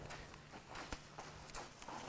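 A horse walks over arena ground during ground driving, its hooves making soft, faint, irregular clip-clop footfalls close by with no voices heard.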